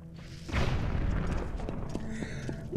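A bomb explodes in Zelda: Twilight Princess HD, a sudden deep booming blast that rumbles and slowly decays, followed by a few light chiming game tones.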